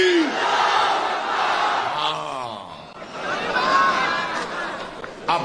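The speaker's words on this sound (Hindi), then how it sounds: "तो फिर हाथा उठाकर बोलो, नारे तकबीर, नारे तकबीर" A large crowd at a political rally roars the Nara-e-Takbir slogan, a loud sustained mass shout with chatter and cheering around it.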